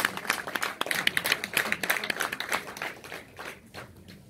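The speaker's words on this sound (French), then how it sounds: "Applaudissez pour lui." Scattered clapping from an audience at a Malian commemoration ceremony in France, a dense run of sharp hand claps that stays fairly steady, then thins and fades toward the end.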